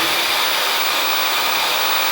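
Hair blow dryer fitted with a diffuser running continuously while drying wavy hair, a loud, steady close-up rushing whoosh of air with no talk.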